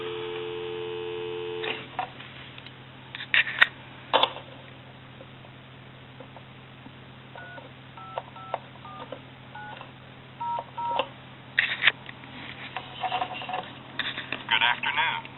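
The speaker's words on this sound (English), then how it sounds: "give you some dial tone." A steady dial tone hums from a Western Electric 317 BB wood wall crank telephone, then touch-tone dialing beeps follow in quick clusters, with a low electrical hum underneath.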